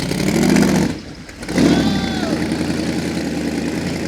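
A supercharged 700 hp 406 small-block Chevy engine in a rat rod idles with a deep rumble, dips briefly, then revs up and settles into a steady, throaty idle again.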